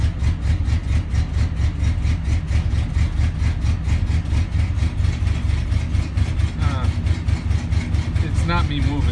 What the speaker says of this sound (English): It's not me moving, so that's the engine shaking the truck.